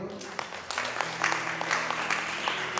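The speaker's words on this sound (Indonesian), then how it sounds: "Tepuk tangan untuk Tuhan." A church congregation breaks into applause at a Sunday service, a dense patter of many hands clapping that swells and continues under a voice speaking.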